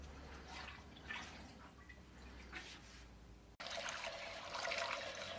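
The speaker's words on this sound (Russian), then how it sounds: "Все, заливаем в бочку." Homemade corn whiskey, a bourbon-style second distillate, poured into a barrel: a soft trickling flow that turns into a louder, denser splashing stream partway through.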